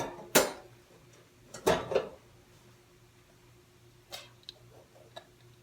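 A baked Madeira cake is flipped out of its tin onto a wire cooling rack in a home kitchen, giving a few sharp metallic clatters and knocks spaced a second or more apart, with quieter taps trailing after.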